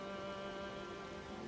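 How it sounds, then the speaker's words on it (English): Rain falling in the video game Elden Ring, a faint, even patter of raindrops with a soft background hum, heard alone without speech. "I guess it's the rain."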